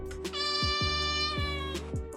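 A cat in a hidden-cat video game gives a drawn-out meow over a steady electronic tone and repeating low thuds of background game music.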